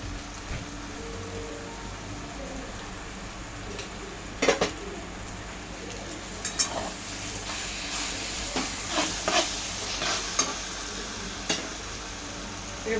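Homemade curd with spices sizzles and fries steadily in a pan for egg biryani, with occasional scrapes and clinks of a spoon stirring against the metal.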